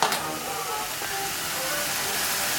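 Onions sweetened with honey sizzle in a hot pan, a steady broad hiss that runs unbroken from start to finish and sits close and fairly soft, with no voices over it.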